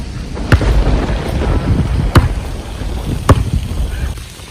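A summer thunderstorm in Chicago brings steady rain hiss under several sharp, close thunder cracks spaced about a second apart, loud and without talk.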